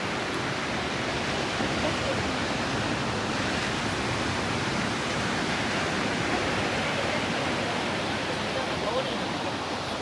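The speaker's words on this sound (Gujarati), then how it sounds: "દરિયો દેખાતો નથી બહુ તો મોજા સંભળાશે" A steady, broad wash of ocean surf on the coast of Portugal roars without pause, dense and unbroken from start to finish, with no clear break between waves.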